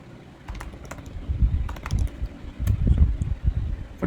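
Steady typing on a computer keyboard as details are entered, with close, soft key clicks in an irregular run that continues for about four seconds with no voice over it.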